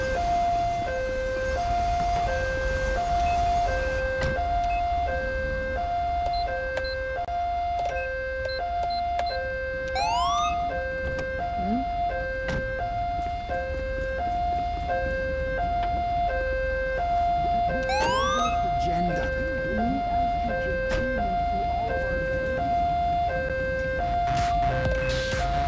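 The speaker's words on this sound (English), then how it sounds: "It's my siren, isn't it?" A police car siren in the GTA V LSPDFR video game, a steady two-tone wail repeating in an even alternating pattern throughout, over constant engine and road rumble, with a couple of brief rising sweeps.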